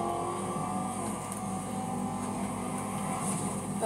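Car engine racing in the video game Need for Speed Most Wanted, a steady loud droning roar during an overtake, continuous for the whole stretch with no talk.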